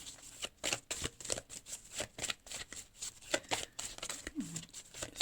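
Tarot or oracle cards being shuffled and drawn, a steady run of quick papery riffles and flicks close to the mic, with no speech over them.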